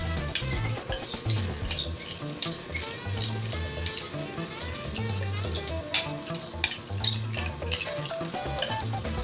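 Eggs frying in foaming, lightly browned butter in a frying pan give a steady close sizzle, with clinks and scrapes of the pan and some low background noise running throughout.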